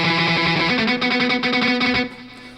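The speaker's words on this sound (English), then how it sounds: "if I press the arpeggiator, the guitar is going to sound like this." Arpeggiated guitar patch from a cheap USB keyboard synthesizer, playing a steady, rapid run of picked notes with distortion and effects, loud and continuous before fading slightly at the end.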